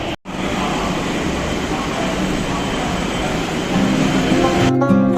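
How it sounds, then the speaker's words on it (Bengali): A Kolkata metro train arriving at a station gives a loud continuous rumble close by, rising slightly toward the end, with a brief tonal chime near the finish. "চলে এলো আমাদের মেট্রো।"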